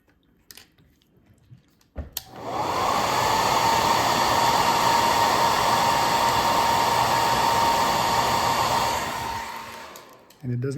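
A heat gun or hair dryer warming a MacBook Pro keyboard switches on after a couple of clicks and blows with a loud steady whine and rush for about eight seconds, then cuts off with a click.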